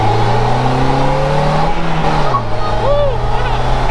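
A Polaris Slingshot with a GM engine accelerates hard in second gear with brief wheelspin, a loud, rising engine drone that dips and climbs again close up, with a voice talking over it.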